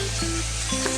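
Ridge gourd and potatoes fry in a pan with a steady, close sizzle that lasts about a second, with no voices.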